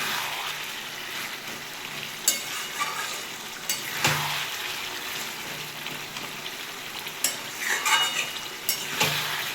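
Chicken frying with spices in a pan over a raised gas flame, a steady close sizzle broken by repeated scraping stir strokes and clinks of the spatula against the metal, with no voices.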